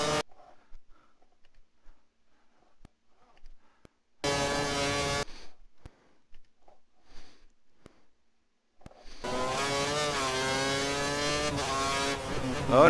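Racing car engine from a motor racing video game with worn tyres, heard in two loud sustained bursts, a short one then a longer rising whine near the end, separated by quiet stretches.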